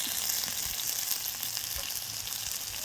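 Taro stolons frying with cumin and green chili paste in a pan give a steady, close, dense sizzle that holds evenly throughout, with no voices.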